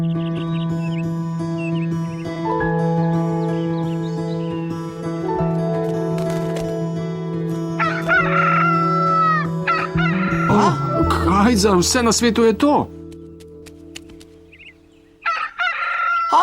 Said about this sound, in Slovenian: Oči, na naši strehi je petelin. Strašen hrup zganja.